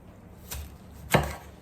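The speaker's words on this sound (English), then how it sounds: "Keep that in mind when you're chopping them." Two crisp knife chops cut through carrot and broccoli on a board, spaced about half a second apart and fairly quiet against a faint room hiss, with no talking.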